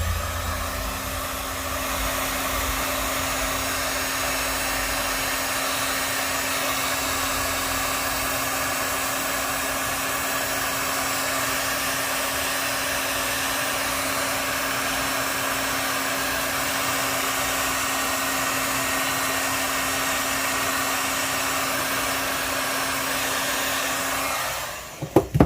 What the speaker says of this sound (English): I am going to warm this up a little bit with my heat gun